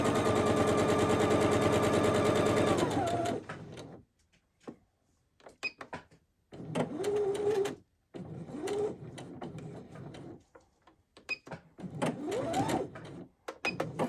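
A sewing machine stitches the centre back seam of a garment, a fast steady whirring rattle that stops, followed by shorter bursts of stitching with pauses and small handling noises between.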